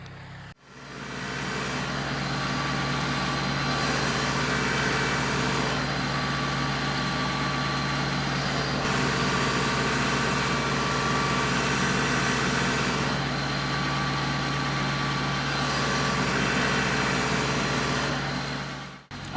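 A tractor pulling a flail mower on a low pass through grass, its engine droning steadily and loudly throughout with a constant mechanical hum and no talking.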